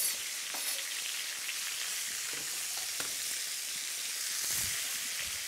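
Onion softening in a pan for beetroot soup, a steady close hiss of frying oil with faint stir scrapes, no voices.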